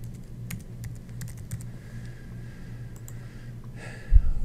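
Close computer keyboard typing while a graph is being made in a spreadsheet: scattered light key clicks in short bursts over a low steady hum, then a louder thump near the end.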